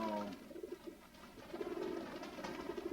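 Pigeons cooing in a loft of yearling cocks, several soft throaty rolling coos overlapping close by, with rhythmic repeated calls throughout.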